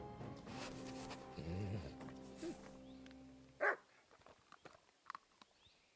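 Dog in Kingdom Come: Deliverance 2 giving a single short bark mid-clip, standing out against a humming game soundtrack and ambient bed, followed by scattered faint yips and small noises.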